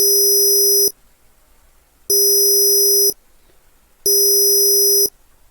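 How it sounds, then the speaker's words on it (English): A sampled sinusoid with zeros inserted, a digital aliasing example, plays as three identical steady tones of about one second each, separated by one-second gaps, loud and clean like a busy signal. "we can also listen to the signal still with zeros"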